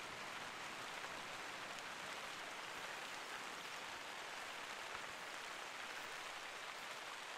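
Steady, even hiss of rain in the video game Hunter: Call of the Wild, falling continuously, soft and uniform with no voices or other distinct sounds.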